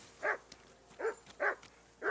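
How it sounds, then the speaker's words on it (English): Dog barking in the medieval open-world game Kingdom Come: Deliverance II, four separate barks spaced evenly at a moderate distance, each a short, sharp burst with quiet pauses between. "Jesus, Henry, that barking's driving me nuts"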